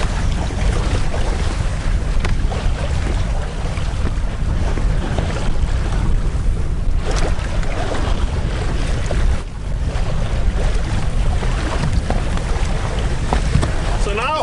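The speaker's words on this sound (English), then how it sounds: "So now we are out of the strait and we are sailing along." Sailboat underway at sea after leaving a strait near Trondheim, with constant wind buffeting the microphone and rushing water around the hull, loud and continuous throughout.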